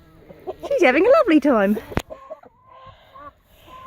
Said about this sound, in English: there's a noisy rooster next to it